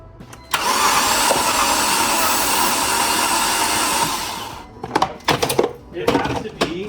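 A car assembled from Temu parts is cranked to start, producing a loud, even whirring that runs for about four seconds, then cuts off into scattered clunks and knocks.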